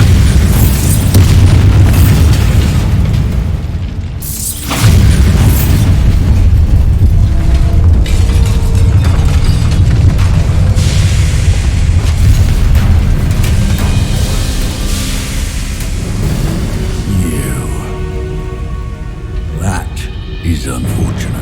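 Bombarda spell explosions in Hogwarts Legacy go off as loud, heavy booms amid a dense, continuous wash of game sound, with a brief drop near the five-second mark before the roar resumes; voices seem to be present.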